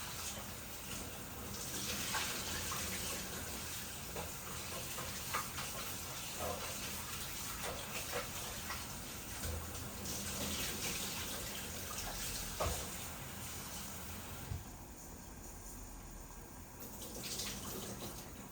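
Running tap water as fish are rinsed by hand, a continuous faint splashing flow with soft sloshes, unbroken and without talk.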